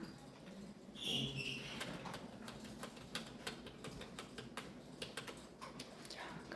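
Computer keyboard keys are pressed in quiet, irregular clicks and taps, a faint sparse run of keystrokes in a quiet room.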